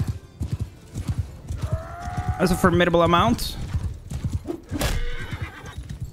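Horses whinny loudly and gallop with clip-clop hooves in a Mount & Blade 2 battle between Ironborn and Martell armies, with someone talking over the action.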